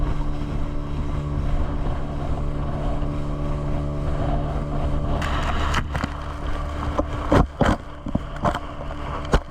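A dive boat's engine drones steadily under rushing wind and water off Trincomalee, Sri Lanka, with a few sharp knocks and bumps toward the end.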